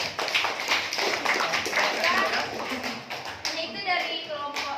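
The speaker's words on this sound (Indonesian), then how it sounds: "tepuk tangan untuk Laura" A classroom group claps for a student after her presentation, a brief burst of clapping and taps mixed with talking and children's voices throughout.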